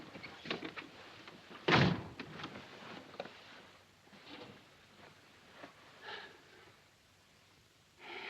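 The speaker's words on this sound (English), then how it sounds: "Shut the door." A door being shut in a wartime drama set in 1941, a single heavy thud near the start followed by quiet room tone and faint movement.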